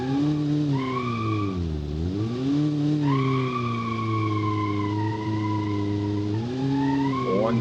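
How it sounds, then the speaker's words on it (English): Small car on narrow 125-width tires climbs a rough, rocky hill, its engine droning loud and steady, the pitch dipping and rising as it labours, with no talk. "in this car on this road, bouncing around, feeling every little rock transmitted on 125 width tires."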